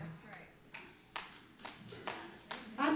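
Audience applause comes in short separate bursts, roughly five distinct waves of clapping at steady intervals, with a louder, fuller burst at the end.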